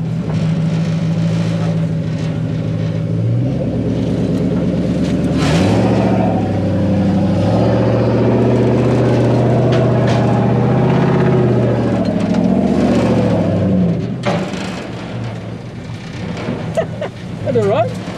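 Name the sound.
1UZ VVTI V8 4x4 offroad buggy engine running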